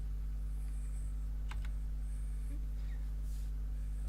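Typing on a computer keyboard during a lecture, a few sparse, light key clicks close by over a steady low electrical hum, with no talking.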